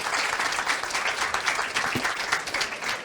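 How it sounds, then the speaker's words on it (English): A seated audience claps for a primary care reform panel, a fairly soft, continuous patter of many hands that stays even throughout without cheering. "A round of applause for our amazing panel."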